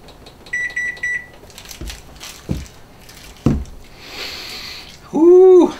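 Kitchen timer beeping during a home beer brew, a short run of three or four bright, evenly spaced beeps near the start, followed by clatter, a thud and a louder closing tone.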